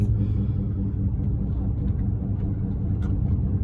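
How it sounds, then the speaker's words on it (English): A low, rhythmic rumbling drone from inside a moving 2015 Ford F350 with a worn wheel hub bearing, steady and fairly loud, with a pulsing womp that repeats with the wheel's rotation. "If you hear this sound in your car, chances are you have a wheel hub bearing unit going out."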